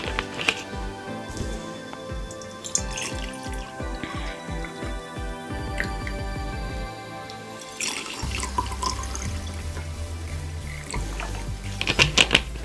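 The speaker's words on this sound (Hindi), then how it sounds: "हम पहले इन टम्बलर को 2/3 वाटर से भर लेते हैं" Water poured into tumblers, filling each about two-thirds full, with rhythmic splashing and dripping that shifts in pitch as the glasses fill, close and steady with no talking.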